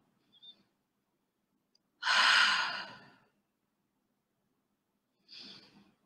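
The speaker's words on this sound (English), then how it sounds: "take three deep breaths with me" A deep breath during a guided meditation: one long, strong airy inhale or exhale lasting about a second, then silence and a second shorter, softer breath, all close to the microphone with no talking.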